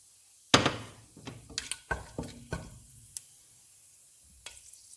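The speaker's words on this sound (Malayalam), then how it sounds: "ഇതിലോട്ട് നമുക്ക് എടുത്തു വെച്ചിരിക്കുന്ന വോൾ സ്പൈസസ് ഇട്ട് കൊടുക്കാം." Whole spices drop into hot sunflower oil, giving a sharp initial crackle followed by scattered pops, ticks and light sizzling that thin out over a few seconds, close by and fairly quiet.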